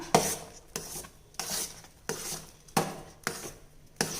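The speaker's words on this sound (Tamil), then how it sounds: "இப்போ இதை நல்லா கலந்து விட்டுக்கலாம்" A spoon stirs rava kesari with ghee in a pan, making steady rhythmic scraping strokes about every two-thirds of a second, each a short gritty rasp against the metal, close and clear with no talking.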